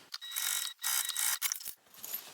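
Sewing machine stitching the bottom opening of a clutch bag closed, a faint run of quick mechanical clatter in short bursts with brief pauses.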